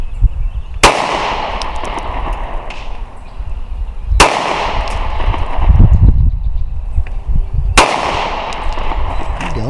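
Three sharp, loud Sig P365 pistol shots spaced a few seconds apart at an outdoor range, each a close crack with a ringing decay, with faint background rumble between them.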